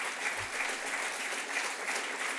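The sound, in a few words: audience applause at awards ceremony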